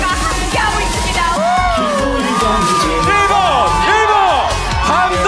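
A large crowd at an outdoor political rally in Seoul the day before the 2025 presidential election yells and cheers loudly and continuously, with individual whoops and shouts rising above the roar.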